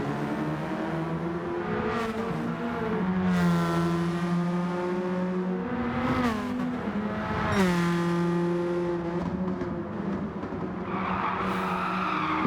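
Radical SR3 race car in Gran Turismo 7 racing and sliding, its engine note rising and falling through gear changes over a steady loud drone, with tyre scrub audible near the end.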